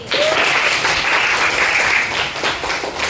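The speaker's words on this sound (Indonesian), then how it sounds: "Beri tepuk tangan untuk Siti." Classmates applaud a student named Siti in an elementary science lesson, a brief burst of dense clapping from a room full of hands that holds steady and loud for about three seconds.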